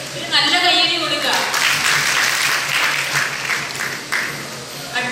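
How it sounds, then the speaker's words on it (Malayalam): An audience at a quiz session of a religious festival bursts into applause after a voice over the loudspeaker. The applause is loud, steady crowd clapping that lasts several seconds. "ഒരു നല്ല കയ്യടി കൊടുക്കുക"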